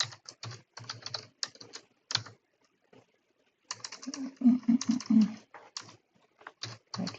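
Rapid, light keystrokes on a computer keyboard typing many spaces, close and quiet, in quick bursts with a short pause midway and no talking.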